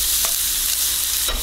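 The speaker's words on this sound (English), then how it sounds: "Stir this up as well." Minced lemongrass gets stirred into fish laab, a continuous close hiss with two brief scraping strokes of a utensil, loud and alone.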